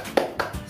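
Schoolchildren in a classroom doing a rhythmic 'tepuk semangat' spirit clap, a few quick claps in a short burst, moderately loud and close.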